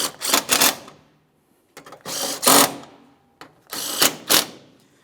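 Headlight mounting hardware on a 2008-2017 Mitsubishi Lancer being tightened with a tool: three separate bursts of rapid metallic ratcheting, each about a second long, close and fairly loud with short silent pauses between.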